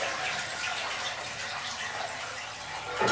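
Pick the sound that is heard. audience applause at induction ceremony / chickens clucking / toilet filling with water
toilet filling with water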